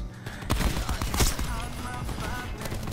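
Light machine gun fire in the shooter game Black Ops 4, rapid bursts of loud shots crackling close up over a dense, busy game backdrop.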